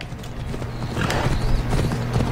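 Hooves of a horse in a video game clip-clopping in a steady trotting rhythm over a low ambient background, fairly close and without talk.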